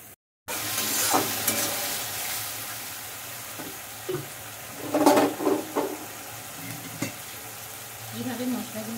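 Spices for ghugni frying in a pan, a close, fairly loud sizzle with irregular scraping stirs and a few sharp knocks against the pan.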